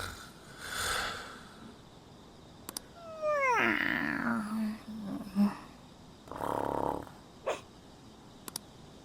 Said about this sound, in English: I fell asleep to the sound of everyone's peaceful breathing.